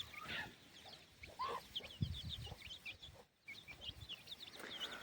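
A village hen with her chicks clucks softly, chicks peeping in high chirps scattered throughout, quiet and close with low farmyard background noise.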